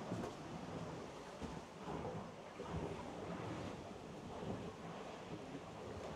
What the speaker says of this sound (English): I can hear only water.